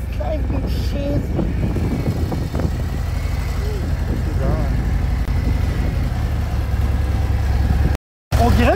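Motorcycle engine running steadily while riding in Las Vegas, a continuous low drone with wind and traffic noise and people talking over it, cutting out briefly near the end.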